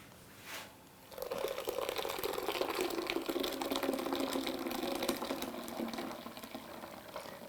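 Homemade almond milk pours steadily through a clean cheesecloth into a large bowl, a continuous close liquid splashing and trickling that runs for several seconds after a brief soft noise at the start.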